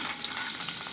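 Garlic sizzles steadily in hot oil in a pan, a close, continuous crackling fry with no voices over it.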